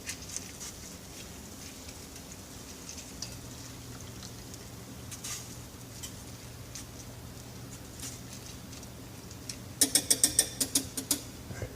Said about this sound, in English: it's boiling, and I turned down the heat to low, so we have a nice little simmer to it